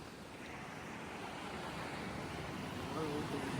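Sea waves wash steadily against the shore of a small island, a constant broad surf roar mixed with wind rumble, with a few faint voices near the end.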